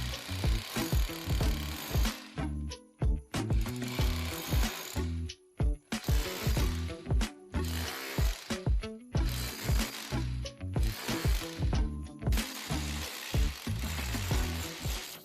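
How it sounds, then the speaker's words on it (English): A chisel hammered into a plaster wall to cut a slot for cabling while a radiator is being moved, giving a steady run of sharp, close knocks and crumbling scrapes with short pauses between bursts. "to avoid a lot of dust, Roger chooses to chisel again"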